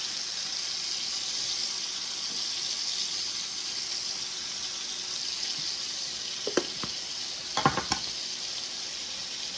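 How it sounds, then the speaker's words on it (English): Meat sears in a hot pan with a steady, broad sizzle that runs throughout, broken near the end by a few brief clatters and scrapes. "We are just gonna sear these"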